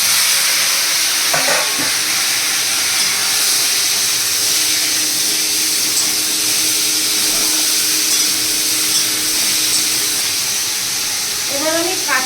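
Pumpkin, potato, okra and hog plum sizzle loudly and steadily in a hot pan as they are stirred, with a brief voice near the end.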